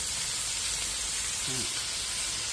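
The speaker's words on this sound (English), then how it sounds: "hear that sizzling?" Chicken and ribeye steak sizzling on a Blackstone flat-top griddle, a constant dense hiss that fills the clip at moderate volume, with a brief faint tonal blip partway through.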